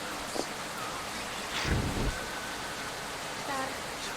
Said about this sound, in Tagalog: Lagas ng ulan eh.